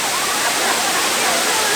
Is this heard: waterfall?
yes